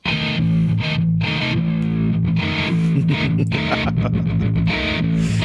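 A heavily distorted electric guitar plays a choppy lead riff with short stops between phrases, loud and upfront with no vocals.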